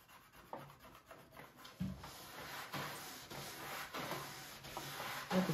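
A brush and plastic scraper are worked over a waxed snowboard base, making soft, repeated rubbing and rasping strokes that are fairly faint and close up, with a few sharper scrapes.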